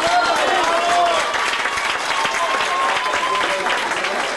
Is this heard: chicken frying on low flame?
no